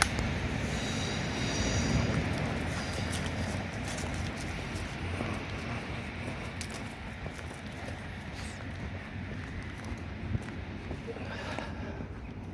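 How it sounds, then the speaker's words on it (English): A train bound for Cardiff rumbles past at a distance near Newport, a steady low roar with faint clattering wheels, continuing throughout. "And if we cross back over this way, Otis, just make out a train on its way to Cardiff."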